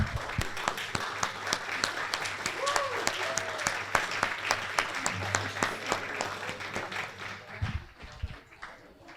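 Applause at an Air Force Ball at Lajes Field in the Azores: a close, crisp round of hand clapping from a banquet audience, steady and continuous before tapering off near the end.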